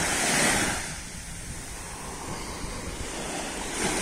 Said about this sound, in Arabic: بحر اليوم راه مهول شوية